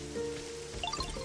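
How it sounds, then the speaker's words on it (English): Light rain patters and drips close by in Pokemon Pokopia, a soft steady wash with a few brighter droplet plinks over a low sustained game music tone. "it's raining"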